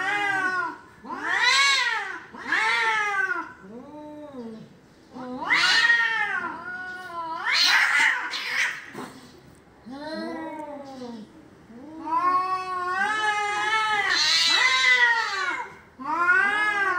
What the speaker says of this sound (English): two young male cats in a room still has the potential of violence